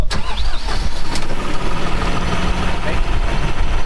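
A small farm tractor's engine cranks and catches, then settles into a loud, steady running rumble close by for the rest of the few seconds, with a voice briefly audible over it.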